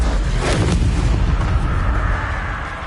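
Bombarda spell explosion in Hogwarts Legacy, a loud, deep booming rumble that swells and rolls on for a few seconds, close and dense, with no talking.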